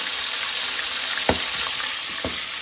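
Pointed gourd fries in hot oil in a pan, giving a continuous soft sizzle broken by two sharp scrapes or knocks against the pan.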